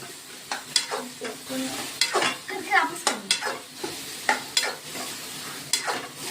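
Potatoes being stirred into a sizzling curry in a pan, with repeated close scraping strokes of a spoon at an irregular rhythm over a continuous frying hiss, with no talking.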